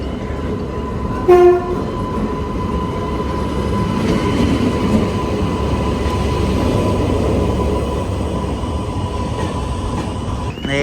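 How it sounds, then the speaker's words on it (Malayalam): Vivek Express train arriving at a station, a brief horn blast near the start, then a steady loud rumble of passing coaches with faint clickety-clack continuing throughout. "വിവേക് എക്സ്പ്രസ് വരുന്നത് ഇപ്പോൾ കാണിച്ചു തരാവേ."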